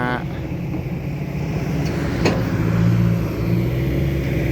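A Hitachi-style SK200-10 excavator's diesel engine idles and rises slightly in a steady, smooth low rumble close by, with a sharp clank partway through and voices talking over it.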